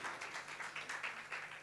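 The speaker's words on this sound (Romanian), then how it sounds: "haideți să o aplaudăm" Audience applause at the Green Woman 2021 gala, a brief burst of clapping in irregular pulses, moderately distant and fairly soft, with no voices over it.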